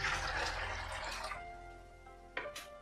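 Water is poured into a pressure cooker holding soaked black beans for vegan feijoada, a close splashing, trickling fill that fades to dripping, then a short second pour near the end.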